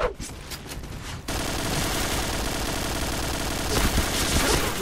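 Video game gunfire erupts in dense bursts, with a brief quieter moment before a sustained fusillade of rapid shots that swells again toward the end.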